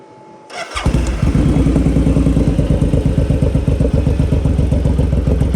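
A 2002 Suzuki Boulevard motorcycle fitted with an aftermarket Cobra exhaust starts up after a brief cranking, then settles into a loud, steady, close-up idle with a rapid, even pulsing rumble.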